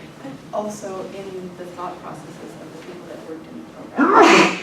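A single sneeze bursts out loudly near the end, following a stretch of a person talking.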